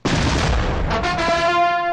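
A gunshot in a Telugu action film's police confrontation: a sudden loud blast with a rumbling, crackling tail lasting over a second, then fading into sustained ringing tones, with no voices.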